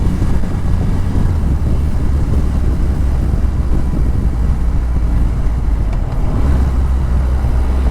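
A Triumph Rocket 3 motorcycle engine runs steadily under a rider, a loud, continuous low rumble mixed with rushing wind noise, with no break across the ride.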